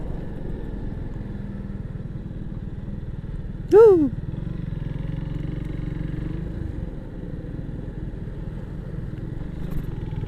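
Steady Kawasaki W175 motorcycle engine rumble while riding over uneven road, with a brief sharp rising chirp partway through.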